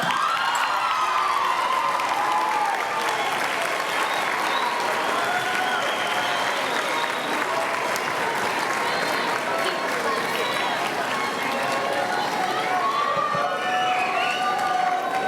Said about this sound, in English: could you please stand and face your parents and give them another round of applause?